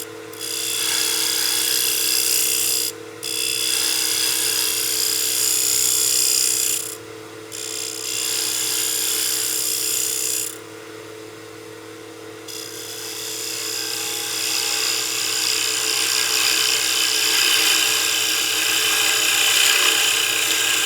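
A wooden block head (a hat form) turns on a lathe while a tool cuts the rim. A steady, close, high-pitched scraping hiss runs for about twenty seconds, broken by a few short pauses where the tool lifts away.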